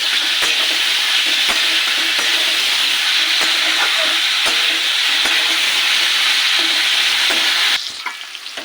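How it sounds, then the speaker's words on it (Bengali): Cauliflower florets with salt and turmeric fry in hot oil, giving a loud, dense, continuous sizzle with occasional stirring knocks, close up, before the hiss drops away sharply near the end. "ফুলকপিটাকে ভেজে নেবো লাল লাল করে"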